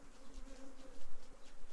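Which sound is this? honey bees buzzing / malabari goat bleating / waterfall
honey bees buzzing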